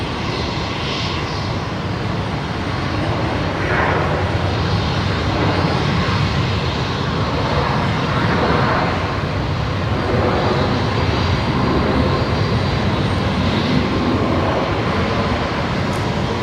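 A Velocity airliner roars on the runway at Brisbane Airport, its jet engines producing a loud, steady broadband rumble and whine that holds evenly at close range throughout.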